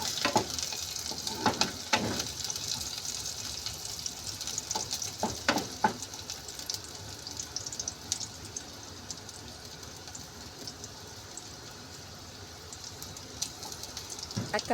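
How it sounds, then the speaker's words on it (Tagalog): Garlic and ginger sauté in a pan for ginisang monggo, a soft continuous sizzle with a few sharp ticks and crackles early on, fairly quiet, no voices. "Isunod natin ang ating laso na bawang at luya. Haluin po natin hanggang sa ito ay mag-golden brown."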